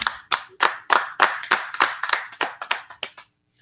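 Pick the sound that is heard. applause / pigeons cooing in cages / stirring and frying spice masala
applause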